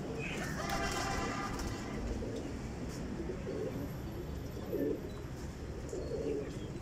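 A golden pigeon gives a few soft, low coos, spaced apart, over faint background noise.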